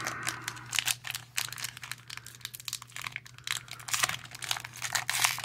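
A foil booster pack of Magic: The Gathering Innistrad Double Feature cards crinkles and tears open up close, a series of sharp crackling rips and crumples over a steady low hum.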